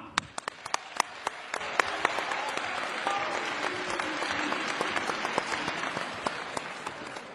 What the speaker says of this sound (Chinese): 让我们用最最热烈的掌声欢迎今天的主角